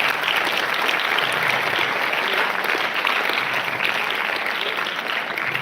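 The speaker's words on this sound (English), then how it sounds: "Let's all give them a big round of applause." A school audience at Sainik School Sangolli gives steady, dense applause that fills the hall evenly for several seconds at a constant level.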